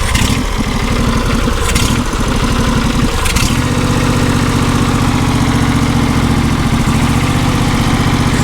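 A John Deere SST16 zero-turn lawn mower engine running on choke after years of sitting, loud and close with a steady, rough drone and a slight change in pitch partway through.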